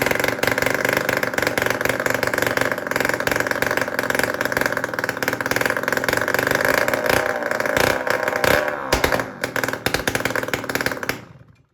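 A 1985 Yamaha DT 175 motorcycle, its carburetor just stripped and rebuilt and apparently running without a muffler, runs loud and close with a raspy, buzzing two-stroke note and small throttle fluctuations, then cuts out near the end.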